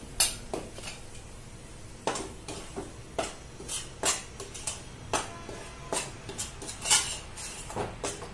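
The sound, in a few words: wheat flour being roasted and stirred in a pan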